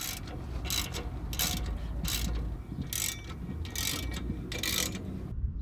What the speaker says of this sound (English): Use a 1/2-inch socket to install the new diff cover using the bolts that Agile provided